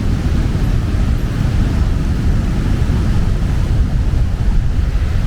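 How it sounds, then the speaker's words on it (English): Large ocean waves crash on a beach in Montezuma, Costa Rica, a loud continuous churning roar of surf mixed with wind buffeting the microphone, with no voices. "these are probably the biggest waves I've ever seen in my life here"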